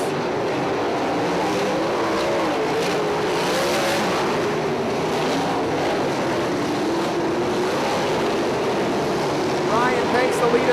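Nonwing 410 sprint cars race at Lawrenceburg Speedway, their engines roaring continuously as they run the backstretch late in a feature, a loud, droning, wavering snarl that swells and fades as cars pass.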